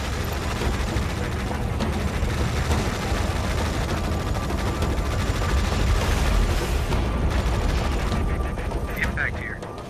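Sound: gunfire from the video game Tom Clancy's EndWar

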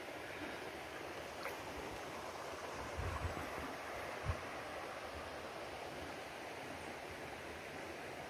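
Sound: river water flowing in Jamaica

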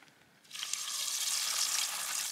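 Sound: chips frying in hot oil

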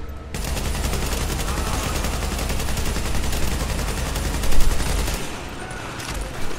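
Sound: light machine gun fire in The Division video game

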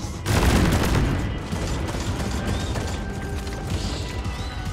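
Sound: fireworks exploding in a video game

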